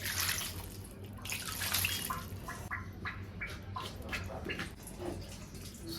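Water poured from close by into a cooking pot holding taro stolons on a village stove, a steady splashing, gurgling pour with a few drips, no voices.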